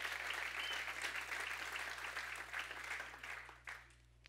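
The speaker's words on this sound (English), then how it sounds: "Yes, we give the Lord a hand clap for that." A church congregation claps together during a Good Friday service, giving dense, even applause for several seconds at fairly low level over a steady low hum, then thinning out and ending near the close.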